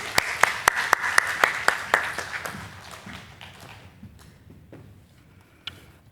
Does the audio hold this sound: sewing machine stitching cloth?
no